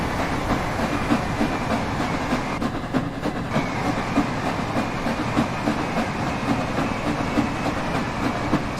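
A Class 800 train on the East Coast Main Line in Train Sim World 4 rolls past with a continuous rumble and a rhythmic clickety-clack of wheels over rail joints at moderate volume, with no voices.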